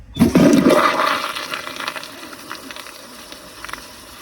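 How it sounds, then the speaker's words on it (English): American Standard Cadet pressure-assist toilet flushing with a low water level in the bowl: a sudden loud whoosh that peaks within the first second, then tapers into a fading rush and trickle of refilling water. "I'm gonna give it a low bowl line flush."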